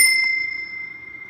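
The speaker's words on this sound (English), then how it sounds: "Even though we love our dinner bell" A dinner bell gives a single bright metallic ding that rings out clearly and then fades away slowly, alone and close by.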